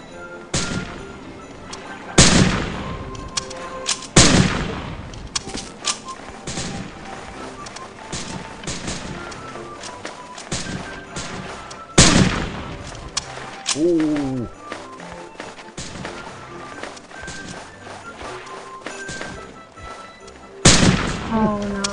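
Gunfire in the video game Winter Clash 3D, with several loud, sharp shots spaced irregularly across the span and quieter game sounds between them.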